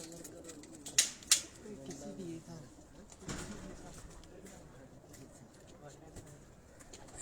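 Pigeons coo softly on a rooftop in Abbottabad at dusk, low murmuring calls spread through the clip, with a couple of sharp clicks early on and a brief flutter of wings.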